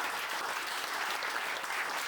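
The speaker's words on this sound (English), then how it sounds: "Can I have a big applause for all today's speakers?" A conference dinner crowd applauds its speakers with a brief, fairly faint and even patter of clapping, heard from some distance across the room.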